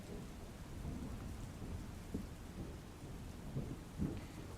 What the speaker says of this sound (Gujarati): ગ્રામ્ય વિસ્તારમાં પવન સાથે વરસાદ પડ્યો હતો